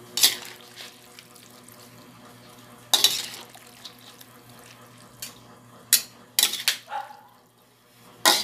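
Pancit guisado noodles being stirred in a pan, with utensil scrapes and clatters against the metal in irregular bursts over a soft background.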